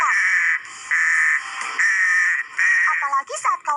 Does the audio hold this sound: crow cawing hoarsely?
yes